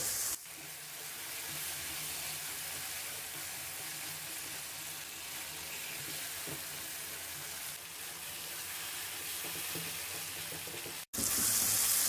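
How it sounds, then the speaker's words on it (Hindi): Capsicum frying in a pan gives an even, moderate sizzle that holds steady for several seconds before cutting off abruptly, no talking. "एक से 2 मिनट शिमला मिर्च को भी भून लेंगे।"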